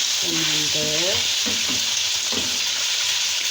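Loud, steady sizzling of potatoes frying in hot oil in a pot, with a few harmonic tones rising briefly near the start.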